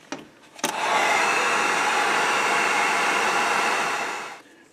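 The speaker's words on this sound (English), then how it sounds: "Get the heat gun to put a dry on that," A heat gun runs steadily for about four seconds to dry fresh paint on a jerkbait fishing lure, a loud, close, continuous blowing hiss that starts after a couple of clicks and fades out.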